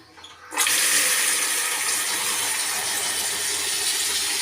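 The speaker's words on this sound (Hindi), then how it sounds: "और मैं करने लगी हूँ भिंडी वॉश" Water runs steadily from a tap over okra being washed, a loud, even rush that starts abruptly after a brief quiet moment and continues without a break; no one speaks.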